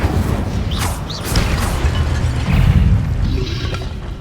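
A fire spell cast in Hogwarts Legacy bursts out as a loud, dense roar, with a brief whooshing flare near the start and a swelling rumble later, all close and sustained with no talk over it.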